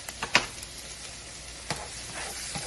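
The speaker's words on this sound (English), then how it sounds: "I'm going to go ahead and throw our onions in. Let those babies cook down." Onions frying in a pan with a soft steady sizzle, broken by a few sharp clicks and scrapes of a utensil stirring, close and quiet with no talking.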